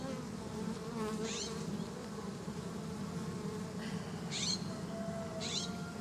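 A colony of honeybees hums low and steady in an open hive during a late-summer inspection, with higher whining sweeps of single bees flying close past, alone without talking.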